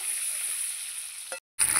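Duck eggs coated in salt and turmeric frying in oil in a kadai give a steady, fairly quiet sizzle, broken by a short clatter and a brief gap before the hiss returns.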